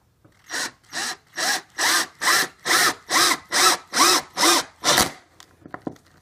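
A power drill drives a 2.5- to 3-inch screw into a door frame to reinforce a door lock, making about eleven evenly spaced loud bursts in a steady rhythm close by, then a few faint clicks.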